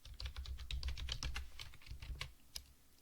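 Rapid clicking keystrokes on a computer keyboard as an install.packages command is typed into the R console, close and fairly quiet, ending in a brief pause and a single harder key press.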